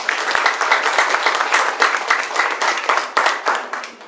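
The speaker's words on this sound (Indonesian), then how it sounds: "Beri tepuk tangan." A seated audience at a business talk breaks into dense, sustained applause, many hands clapping close together in a bright, steady roar.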